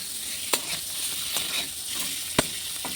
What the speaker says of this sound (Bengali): এদিকে আমার ডিম ভাজা হচ্ছে